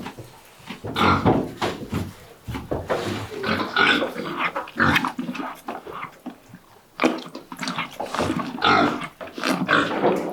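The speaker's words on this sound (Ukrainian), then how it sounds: "Білесенька козочка" Bleating and snorting calls of a small white goat on a high mountain family farm, repeated bursts at close range, fairly loud and continuous.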